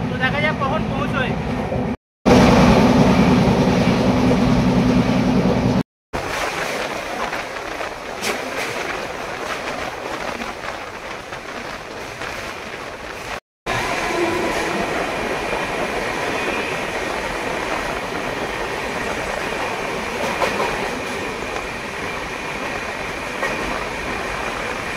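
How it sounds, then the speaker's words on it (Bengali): A train on the Shalimar to Vizag run enters Kharagpur station, heard from on board as a continuous loud rolling rumble and rattle broken by a few abrupt cuts, with voices in the background. "ট্রেন ঢুকছে খড়গপুরে"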